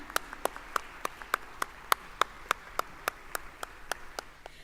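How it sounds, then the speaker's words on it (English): An audience claps at the 15th anniversary celebration of a skills development centre, a sparse, fairly regular run of distinct handclaps from a small group, moderately loud and close, with no talking over it. "Come on, keep that applause going."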